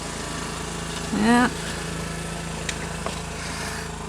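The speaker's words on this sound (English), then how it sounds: "here comes the tractor next door" Neighbor's tractor engine running next door during a March snowstorm in Batavia, Illinois, a faint steady hum with a brief louder whine rising over it, and a short spoken word.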